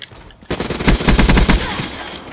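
Sentry gun turret in a multiplayer shooter game firing a loud, rapid burst of automatic gunfire lasting about a second and a half, starting abruptly and trailing off.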